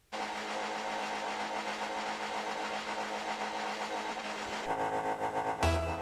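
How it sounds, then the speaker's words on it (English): Cars in the video game Rocket League rev their engines before an esports match kickoff, a steady mid-pitched engine drone that swells near the end with a sharp burst. "Everybody's revving their engines, getting ready to go."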